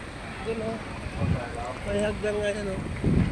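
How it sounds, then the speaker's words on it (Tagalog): Steady wind rushes and buffets throughout at a seaside overlook in Batangas, with a voice talking over the breezy roar. "Presko kasi mahangin."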